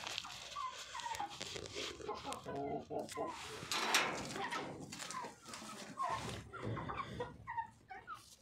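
Chickens cluck and chatter in a loose, overlapping chorus as they are fed, with a person talking among them at close range and fairly low level.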